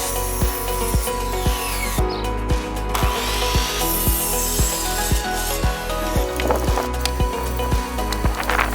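A power driver runs screws horizontally into pallet wood for a sandbox side, a loud continuous motor whine with a regular pulsing rhythm, close up, running steadily throughout.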